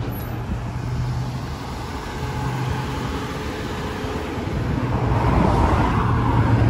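A GEOAmey prison van drives past outside HMP Lincoln, its road noise and engine swelling gradually as it approaches, with traffic rumble throughout and no talking.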